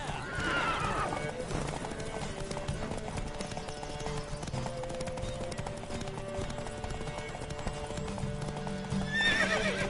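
Hooves clip-clop at a quick gallop in a video game beneath a steady music bed, with a horse whinnying at the start and again at the end.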